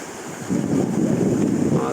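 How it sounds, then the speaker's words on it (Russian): Waves on a slightly rough Black Sea wash in as a broad rushing surge that swells after a quieter start, with wind buffeting the microphone. "Вот так в целом как бы есть небольшое волнение"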